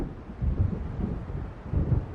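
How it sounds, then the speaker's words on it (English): Low rumbling thunder rolls in from an approaching storm in the video game Alan Wake, a soft, distant-sounding swell that rises and falls twice over wind-like noise. "It seems there's a storm coming."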